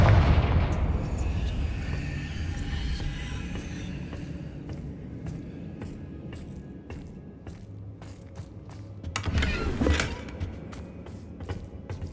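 The Confringo blasting spell from the Hogwarts Legacy video game erupts in a loud, low boom that rumbles and fades, followed by a second burst of crackling impact a few seconds later, with no speech over it.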